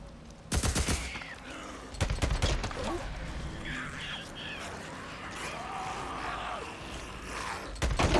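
Gunfire in the Days Gone video game: a few sharp, loud shots and short bursts, separated by quieter gameplay ambience and faint background noise.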